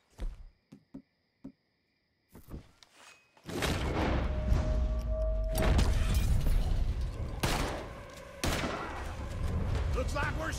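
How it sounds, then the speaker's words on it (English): Gunfire in a Red Dead Redemption 2 shootout: a few sharp isolated shots, then a dense, loud barrage of overlapping bursts, with voices talking in between. "Looks like we're shooting our way out of here."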